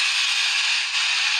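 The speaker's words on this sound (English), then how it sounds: "I went and gave my parrot Angel a snack, because when he doesn't get a snack, he sounds like this." Pet parrot Angel giving a harsh, sustained, high-pitched screeching squawk, loud and close, alone and unbroken for over a second.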